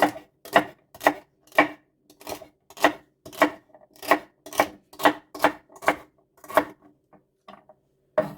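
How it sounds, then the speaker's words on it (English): A knife chops celery leaves finely on a cutting board in a steady run of about a dozen crisp, close knocks, tapering to a few scattered taps at the end, with no talk. "I'll just chop them up finely afterwards and add it to the celery"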